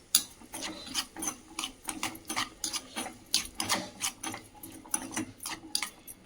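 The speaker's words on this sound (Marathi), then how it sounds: "आपण कट केलेली कैरी हे सगळं छान मस्त हलवून घेऊया आपण आता" Cut raw mango pieces for pickle are stirred and tossed in a pan, giving a steady series of close, rhythmic scraping and rubbing strokes with no talk.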